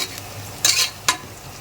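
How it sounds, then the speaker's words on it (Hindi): Onions browning in a pan for dal gosht, with two short stirring scrapes over a low, steady sizzle. "यहाँ पे देखें, प्याज हमारी ब्राउन हो रही है,"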